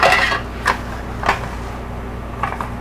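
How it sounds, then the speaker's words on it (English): Two small, thin, lightweight metal pizza pans clink and rattle as they are handled up close, a few short bright metallic knocks spaced across a brief moment. "And what I found was these two very small pizza pans."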